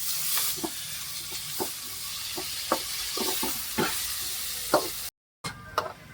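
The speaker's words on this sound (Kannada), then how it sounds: "ಅರಿಶಿಣ ಹಾಕಿ ಚೆಂದ ಫ್ರೈ ಮಾಡ್ತಾ ಇದ್ದಾನೆ." Tomato with turmeric and spices frying in a pan, a steady sizzle broken by several sharp clicks of stirring, near and fairly loud, with a brief dropout.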